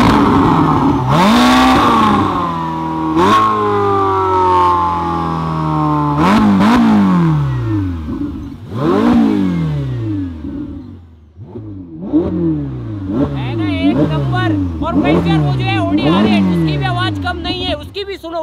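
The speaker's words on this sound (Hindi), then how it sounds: "तो गाइस यार ये हो गई हमारी गाड़ी स्टार्ट, और अभी सुनो इसकी आवाज" Sports car engine, a Ferrari or Audi R8, fires up and revs hard in repeated rising bursts, then settles into a rapid series of short, punchy blips with crackling overrun, loud and close throughout.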